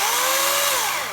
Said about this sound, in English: make sure the chainsaw is spinning before you touch the wood